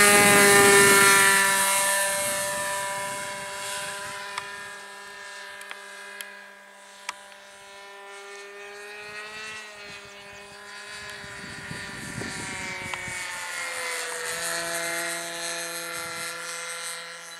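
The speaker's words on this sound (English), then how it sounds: "It's funny how that engine's got a little higher pitch sound coming out of it too." A radio-controlled model aircraft engine whines at a flying field in Yarmouth, Nova Scotia, a steady high-pitched buzz that rises and falls as the plane passes overhead, loud at first, then more distant.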